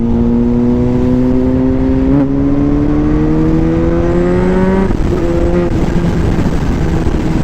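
A Kawasaki ZH2 motorcycle accelerates hard on a test ride, its engine whine rising steadily through the gears with two quick shift breaks, loud and close against wind noise.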